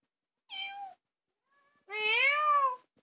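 A cat meows twice close by, a short mew followed by a longer, rising and falling meow, with silence around them.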